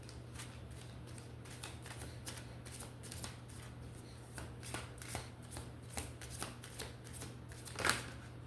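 A deck of cards is shuffled in a quiet room, giving a steady run of soft riffling flutters with a sharper snap near the end, all fairly faint under a low background hum.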